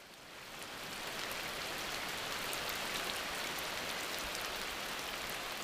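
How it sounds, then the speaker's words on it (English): Steady, even rain pouring down in the Amazon rainforest during a rainy-season downpour, a dense hiss of drops on foliage that swells in over the first second and then holds constant, with no voices. "For many animals, the daily downpours of the rainy season provide a welcome break from the stifling heat of the dry months."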